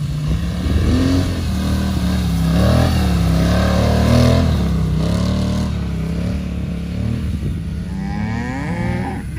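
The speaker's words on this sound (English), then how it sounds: "today we got the 2020 Polaris Sportman XP 1000S" A 2020 Polaris Sportsman XP 1000S ATV engine revs loud and close during a hill-climb wheelie, its droning pitch swelling and dipping continuously from start to finish.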